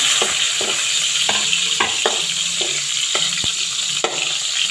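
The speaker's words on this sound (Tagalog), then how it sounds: "At magigisa na tayo. Lalagyan na natin yung garlic." Chopped garlic sizzles and crackles steadily in hot cooking oil in a pan at the start of a Bicolano ground-pork giniling, with a few stirring scrapes punctuating the constant frying hiss.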